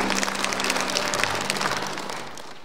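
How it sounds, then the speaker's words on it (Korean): Audience applause welcoming a speaker to the podium at the opening ceremony of the Nogeun-ri International Peace Forum, dense clapping filling the room and tapering off toward the end. "박수로 환영해 주시기 바라겠습니다."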